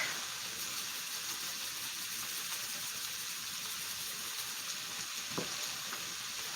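Onions and potatoes fry steadily in a pan, a continuous hiss with a faint scrape of stirring near the end, no talking over it.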